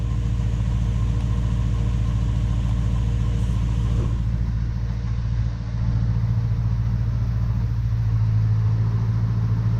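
A Nissan VK45 V8 engine in a Nissan D22 Navara idles steadily up close, a low even rumble with a faint mechanical whir on top, holding the same pitch throughout.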